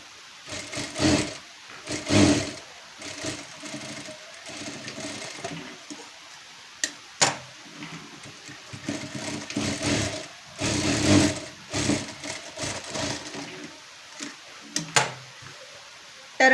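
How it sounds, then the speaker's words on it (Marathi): A sewing machine runs in bursts while stitching darts on a blouse for fitting, its needle whirring in short stop-start runs with quiet pauses and a few clicks between. "आता ह्या साईडला पण आपण टिपा मारून घेऊया तशाच"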